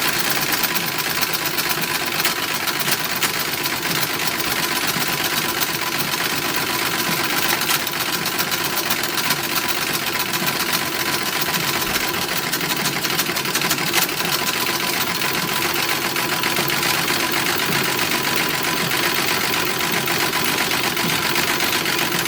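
A sewing machine stitching down a hat brim with an interfaced brim lining, its motor humming and needle whirring in one steady, unbroken run, close and even throughout with no one speaking.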